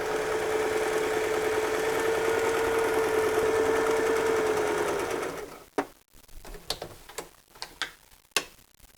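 A sewing machine runs a test seam in one steady, close whirring burst of about five seconds. It then stops, and scattered clicks and handling knocks follow.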